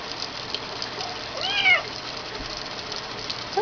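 A kitten meows plaintively, complaining while being bathed with soap; a single drawn-out, rising cry comes up over faint trickling water, followed by a brief second squeak near the end.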